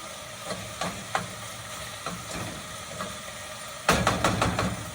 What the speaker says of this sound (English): So you stir it until it all turns, it's all cooked.